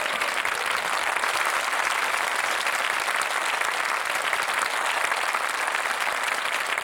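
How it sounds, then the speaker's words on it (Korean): A studio audience at a Naval Academy television show gives loud, sustained applause as a guest arrives, with continuous dense clapping throughout. "여러분 더 큰 박수로 맞아주세요"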